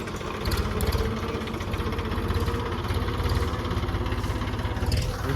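A tractor engine idles steadily on a cotton farm, its low, rapid throbbing pulse continuous and close throughout, with faint background noise and no talk.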